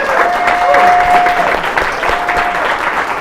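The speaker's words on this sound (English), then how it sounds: "let's give another round of tremendous applause for Gale Brewer" Loud, sustained applause from a community event audience honoring the Manhattan Borough President, dense clapping filling the room from start to finish with a faint whistle tone over it.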